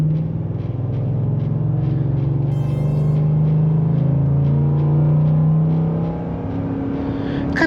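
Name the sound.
2024 Ford F-150 5.0L V8 truck accelerating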